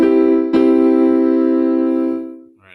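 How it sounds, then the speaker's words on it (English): A three-note piano chord struck and left ringing, then a second strike of the same chord shortly after, its steady harmonic tone slowly decaying before fading out, with a faint trailing sound at the very end. "A chord is just a 3 notes stacked on top of each other"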